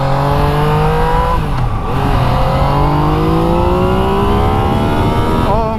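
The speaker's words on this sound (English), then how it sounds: "I cannot believe that there are machines that can do this." A 2016 Yamaha XSR900 motorcycle accelerates hard and close, its engine note climbing through the gears with quick dips at each shift, loud and continuous with wind rush.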